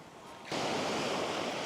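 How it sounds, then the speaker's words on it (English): Ocean waves at a remote shoreline campsite, a steady broadband wash that swells up sharply partway through and then holds as a loud, continuous surf roar with no voices. "I don't know, this is the ocean."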